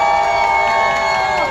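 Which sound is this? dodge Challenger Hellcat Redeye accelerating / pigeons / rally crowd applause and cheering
rally crowd applause and cheering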